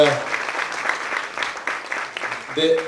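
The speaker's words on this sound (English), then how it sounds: "they all deserve a round of applause from everybody out here" An audience at a fashion show claps in a steady wash of applause, with a voice speaking briefly at the start and end.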